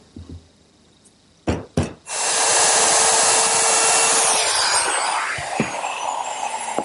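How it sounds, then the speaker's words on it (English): A table saw with a dado blade cuts a tenon in wood for a Queen Anne table: a few knocks, then the blade spins up into a loud, steady whine and rough cutting roar that eases toward the end. "With my dado, I can easily form that tenon that fits into the cleat."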